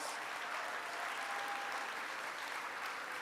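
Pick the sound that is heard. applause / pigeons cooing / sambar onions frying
applause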